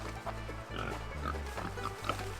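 Pigs grunting and oinking in a farm pig area, a run of low, close grunts in quick succession with no talking over them.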